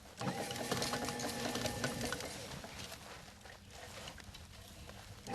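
Elf garland making machine winding wire around a core wire, a steady whirring mechanical hum with rapid rhythmic clatter, loudest in the first two seconds, then continuing more softly; no talk.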